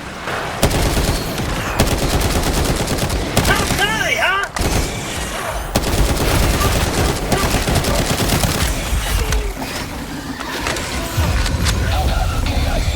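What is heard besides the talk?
gunfire and explosions in a video game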